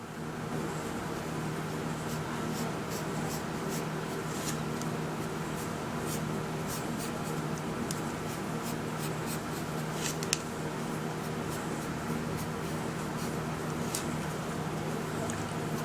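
A pen draws an ellipse on paper while working a math problem. Faint scratchy strokes come in short repeated bursts over a constant background hum.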